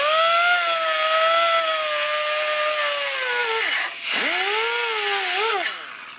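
A cut-off wheel slices through excess truck exhaust pipe with a loud, sustained high-pitched whine whose pitch dips sharply as the wheel bites in, then rises again, with a second brief dip near the end.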